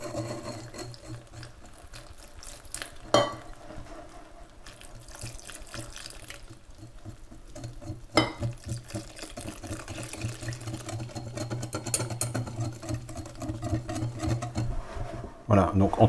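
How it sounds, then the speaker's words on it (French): Milk is poured and stirred into a thick crêpe batter with brown sugar, salt and baking powder, giving soft wet sloshing and scraping at a steady pace, with a couple of sharper clinks and a voice talking now and then. "On additionne le lait."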